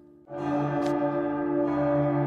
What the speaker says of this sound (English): Oh, the bell is ringing.